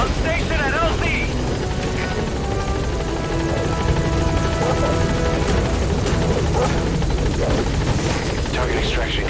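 A helicopter arrives at a landing zone in the Metal Gear Solid V video game: a loud, continuous rotor thrum and whine holds close by for the whole stretch, with indistinct radio voices under it.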